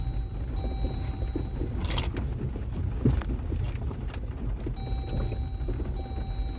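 A high-clearance vehicle crawls down a rough Utah back road at high elevation, its steady low rumble mixed with wind buffeting, rattles and a few jolts and knocks, with thin tonal whines coming and going.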